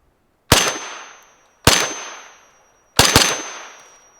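FN P90 firing three loud, sharp shots outdoors, the last a quick double, each followed by a decaying echo, with short gaps between and no talk.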